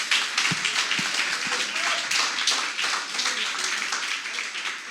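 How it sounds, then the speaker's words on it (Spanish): A church congregation claps steadily for the Lord during a Spanish-language sermon, a dense, even wash of applause filling the space with no voices over it. "dale un aplauso al Señor si tú quieres"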